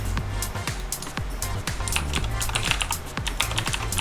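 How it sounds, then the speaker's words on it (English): Steady, rapid typing on a computer keyboard during a game livestream, with many close, crisp key clicks running continuously under a low background hum. "Typing it in chat."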